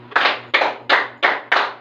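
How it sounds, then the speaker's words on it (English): A class claps five times in unison, each clap sharp and close, spaced evenly about a third of a second apart, with a faint hum underneath. "Let's give 5 claps to July"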